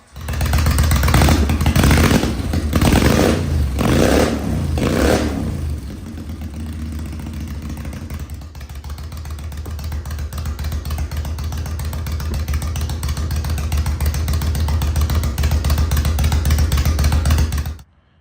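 A motorcycle with a Mean Street exhaust revs hard in three loud close bursts, then drops to a steady rumbling idle that continues to the end, without any speech.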